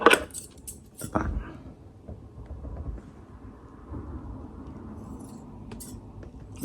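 Bright metallic clinks and a sharp ring from steel barber scissor blades being sharpened near the start, then a low, steady rustle of handling with faint taps; no talking.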